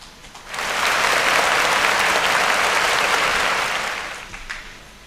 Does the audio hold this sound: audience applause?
yes